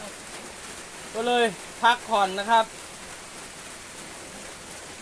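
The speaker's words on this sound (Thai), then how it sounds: "ฝนก็ตกดีดีนะ" Rain keeps up a soft continuous hiss in the background while someone talks briefly in the middle, then the steady patter carries on alone.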